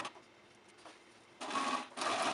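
A sewing machine stitches gathered ribbon on a Bo Peep costume: a faint stretch at first, then two loud steady bursts of running stitches, each lasting about half a second, close by with no voices.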